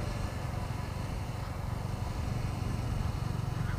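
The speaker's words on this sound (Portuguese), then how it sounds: "E o sonzinho, o ronco do escapamento, muito gostoso, um ronco grave." A deep, steady motorcycle exhaust rumble from a Dafra Apache RTR 200, low and continuous throughout, fairly quiet with no talking.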